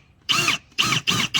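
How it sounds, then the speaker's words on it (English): A power drill fitted with the bit supplied with a Ring Spotlight Cam bores a hole through a wall during the camera install, running in three close, loud whirring bursts separated by short pauses. "I'm going to use the drill bit that comes with the camera to drill the hole first"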